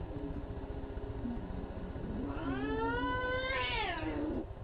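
A cat meows loudly and close, a drawn-out wailing cry that rises and bends in pitch over a couple of seconds, heard over a low background hum.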